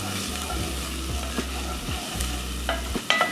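Garlic and onions fry in a pan for a beef taco salad, a loud continuous close sizzle with soft stirring scrapes and a couple of sharp clicks near the end.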